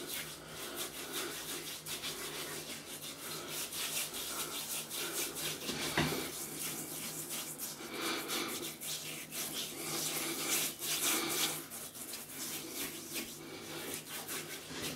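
A seed face scrub from a barber's wet-shaving range, massaged onto skin, gives a close, continuous gritty rubbing and scratching with irregular strokes.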